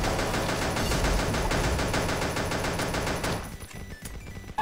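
Rapid gunfire from a four-barrel gun in the mobile shooter Pixel Gun, a dense loud burst of continuous shots lasting several seconds before cutting off into quieter game sounds.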